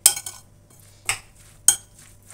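Three sharp clinks of a utensil striking a bowl while eggs are mixed, spaced irregularly and close, with quiet scraping and a low hum between them.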